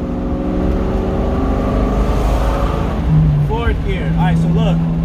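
A manual-transmission car revving in third gear hums steadily with a low engine drone and rising tones, heard from inside the car, with a voice speaking briefly over it near the end.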